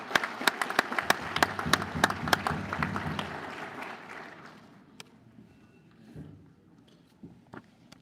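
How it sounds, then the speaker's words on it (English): Audience applause at a swearing-in ceremony, dense clapping from a crowd that is loud at first, then thins and fades away over the last few seconds. "So give them one more round of applause"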